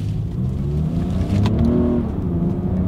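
A 2022 Lexus RX 350 SUV accelerates during a paddle-shift test, its engine droning close and steady as revs rise, with a quick shift around midway and no voices.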